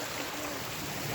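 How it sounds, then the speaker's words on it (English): A small brook flowing under a footbridge below an ornamental lake gives a steady, even wash of running water, close and continuous, with no voices. "the little brook that emerges from the ornamental lake"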